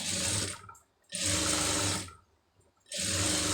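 A sewing machine stitches a hook strip, running in three loud bursts of rapid whirring with short pauses between them, close up and without talk.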